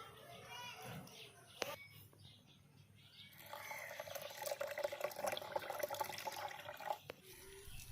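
Water splashes and swirls through sago pearls being rinsed for a Bengali sago payesh, starting sparse and quiet, then building into a louder, continuous wash of running water near the end, with some voices in the background.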